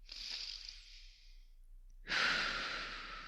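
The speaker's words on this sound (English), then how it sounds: "Take a big breath in," A big, slow breath drawn in during a calming exercise, a soft airy inhale that fades, then after a short pause a louder, fuller breath of air rushing out, close to the microphone with no talk.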